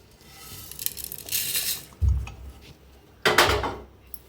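Roasted whole spices are scooped from a pan onto a plate: a soft rustle, then two distinct scrapes and dull knocks of a utensil against the pan, close and fairly loud.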